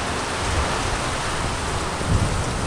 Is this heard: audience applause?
no